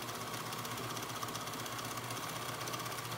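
A sewing machine running steadily while sewing the long edge of a yoga mat bag, a continuous close hum with rapid even needle clatter throughout.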